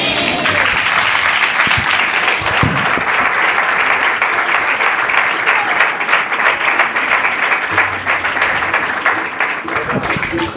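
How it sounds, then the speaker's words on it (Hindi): Sustained, loud applause from a church congregation at a Sunday service in Lahore, following the pastor's sermon, with dense steady clapping throughout and a few low murmurs underneath. "जोरदार तालियां खुदा के खादम के लिए"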